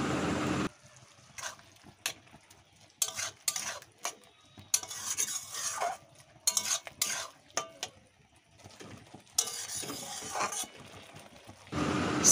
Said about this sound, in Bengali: মুসুর ডালটা দিয়ে ভালো করে নেড়ে চেড়ে কিছুক্ষণ সেদ্ধ হবে।